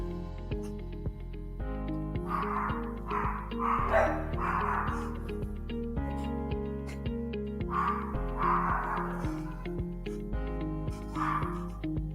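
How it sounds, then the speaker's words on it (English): Several dogs yip and bark in bursts outdoors, sounding somewhat distant behind steady music with a repeating harmonic pattern, the barking clustering in short excited flurries over about twelve seconds. "I don't know if you hear my dogs, they're acting crazy out there."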